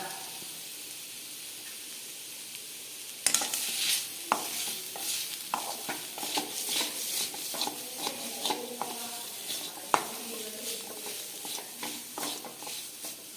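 Silence, then a steady sizzle of minced chicken frying in a pan, with repeated scraping and clinking of a spatula stirring through it.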